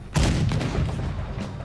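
A single heavy cannon boom in Red Dead Redemption II bursts out near the start and rolls into a rumbling decay that fades over the next second.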